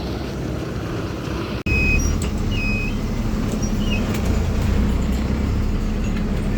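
Steady, loud rumble of a bus cruising on the highway from Coimbatore to Salem, continuous road and engine noise with a brief dropout and faint high squeaks and rattles.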